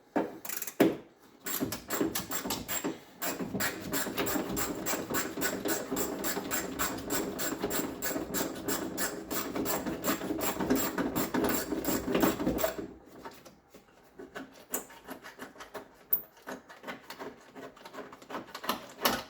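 A wrench works a rusty bolt out of a Triumph TR6 dash, making a long run of fast, close ratcheting clicks that stop abruptly, followed by quieter scattered knocks and rattles.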